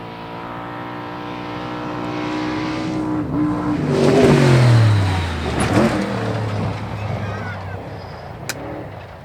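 Off-road race trucks in the Vegas to Reno desert race pass close by and jump a hill, their engines rising and falling as they rev past. Voices speak under the engine noise.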